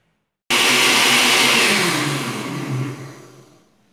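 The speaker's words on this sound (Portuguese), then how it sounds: "aqui vou bater primeiro essa gelatina." A kitchen blender whirs loudly while beating gelatin, starting abruptly, running steadily for about two seconds, then winding down and fading out.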